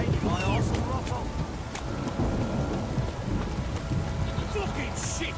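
Continuous heavy rain falls in The Witcher video game, a dense, even hiss with low rumbling underneath and a few faint voices and creaks mixed into the downpour.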